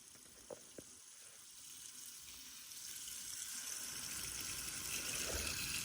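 Water poured into a pot of stuffed grape leaves held down by a plate, a faint steady stream that grows fuller over several seconds after a couple of soft clinks.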